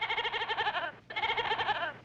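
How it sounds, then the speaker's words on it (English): A goat bleats loudly and close by in two quavering, wavering calls separated by a brief pause, in a rural sitcom scene. "Joe, get that goat out of here"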